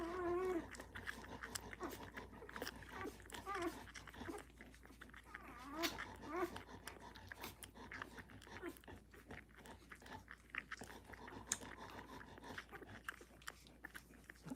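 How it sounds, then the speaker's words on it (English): Hungry puppies whimper, squeal and yelp in an irregular, close-up chorus, mixed with small crunching and chewing sounds while they feed. "This is a very hungry puppy."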